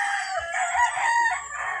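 A fighting rooster crows in a cord area, one loud, close, drawn-out cock-a-doodle-doo that wavers in pitch, with no talking.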